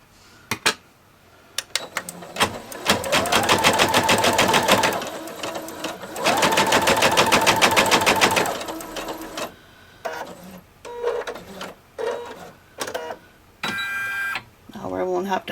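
An embroidery machine stitching a design onto toilet paper, running in two long rapid mechanical bursts with rhythmic needle chatter, then short stop-start runs and clicks, loud and close.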